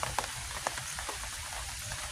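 Steady rain falling around a campsite, a constant wash of patter on surfaces with a few brief, louder drops standing out near the start; no voices.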